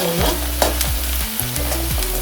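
Homemade masala stirred and fried in a pan for dum biryani over medium heat, with a steady close sizzle and repeated scraping strokes of the spoon in a regular rhythm.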